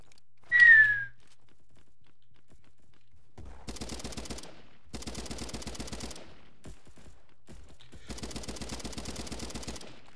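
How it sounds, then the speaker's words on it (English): Suppressing fire in the Roblox shooter Bad Business: a short whistle-like tone, then two long rapid automatic bursts separated by a brief pause, clear and fairly close. "Suppressing fire."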